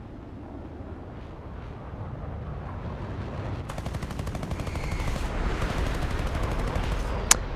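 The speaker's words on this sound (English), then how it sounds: "This should make it easier for me to catch him and take a shot at him." Aircraft cannon fire from a Mystere IIA jet in a combat flight game, rapid bursts crackling over a steady roar of engine and wind noise that builds toward the end, with one sharp louder hit near the close.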